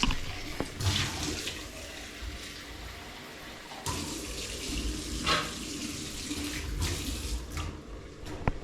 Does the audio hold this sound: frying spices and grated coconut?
no